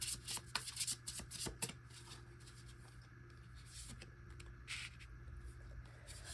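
Tarot cards shuffled by hand, quiet soft riffling and rubbing with a few sharp flicks near the start, then a faint steady shuffle with a low hum beneath.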